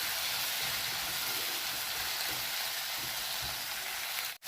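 Chopped tomato pieces and onions sizzle and fry steadily in a pan, a dense, even crackle that holds throughout before a sudden bump at the end.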